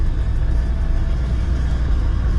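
Cabover truck rolling in to park against concrete at a circus setup, a steady low engine rumble holding close and even throughout with no voices.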